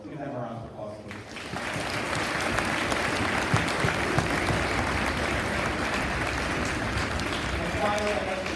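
Steady, dense applause from an audience at a school string festival concert, swelling in after a brief spoken lead-in and holding at full strength to the end.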